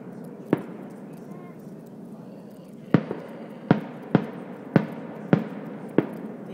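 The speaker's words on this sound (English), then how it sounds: "It's a 45-minute firework show." A 45-minute New Year's fireworks show booms in the distance on a freezing night, sharp separate bangs arriving one at a time, then in a rhythmic run of six roughly every half second, over a low murmur of background noise.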